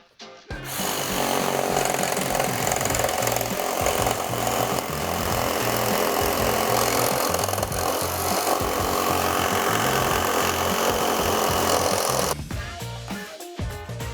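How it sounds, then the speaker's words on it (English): A Ryobi cordless reciprocating saw, fully charged 4-amp-hour battery and brand new blade, cuts steadily and loudly for about twelve seconds with a harsh buzzing chatter, then winds down near the end. "we've got the Ryobi with a fully charged 4-amp-hour battery and a brand new blade."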